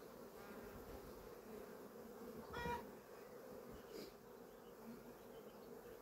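Honeybees hum at a hive in a constant, soft buzzing drone, with a couple of insects passing closer for a moment.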